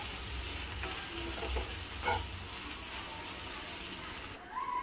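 Green chilli thecha fries with a faint, steady sizzle in a pan while being stirred, with a few soft scraping knocks of the spoon.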